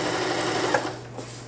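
A Bernette B33 sewing machine runs a straight stitch in a sewing shop, its motor whirring loud and steady up close before slowing and easing off near the end.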